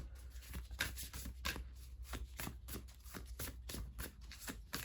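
Oracle cards shuffled steadily and close up, a continuous series of soft papery riffles and slaps repeating every fraction of a second, faint and unaccompanied by speech.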